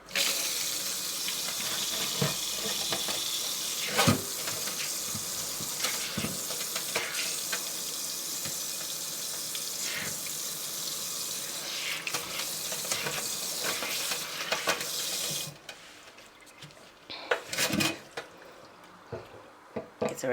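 Tap water runs steadily into a freshly cleaned pot, a continuous splashing hiss with occasional clanks, then the flow cuts off and a few louder knocks and handling sounds follow.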